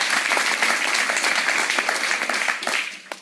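A crowd applauds a candidate introduced at a citizens' cooperative election list presentation in Cher, France; close, dense clapping that holds steady for about three seconds, then thins out at the end.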